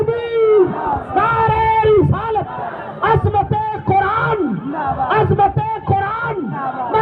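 Large crowd at a religious speech gathering chanting Islamic slogans in unison, loud, repeated call-and-response shouts in rhythmic bursts, with a leading voice between chants.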